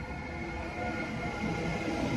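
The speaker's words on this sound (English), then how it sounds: "Fresh from the depot comes our train to Prague" A low, steady rumble of a České dráhy EuroCity train rolling slowly from the depot, with a faint rising hum as it draws nearer.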